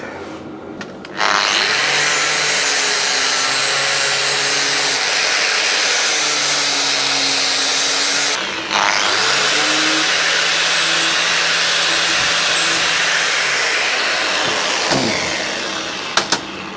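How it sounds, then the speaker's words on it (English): Angle grinder cutting down the metal flats on a steel speedometer bracket for a BMW off-road build, a loud sustained whine running steadily with a brief pause midway and a few knocks near the end. "Let's grind them away."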